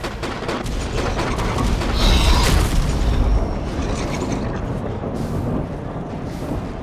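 A house is blown up in the video game Ark Survival Ascended, giving a rumbling, crackling burst that swells in the middle and then trails off into lingering debris and mechanical clatter.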